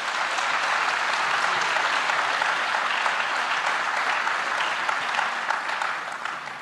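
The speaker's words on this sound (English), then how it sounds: "Please give her a round of applause again." The audience at a legal practice management panel discussion claps loudly and steadily for several seconds, a dense wash of hands that stays even and then fades slightly at the end.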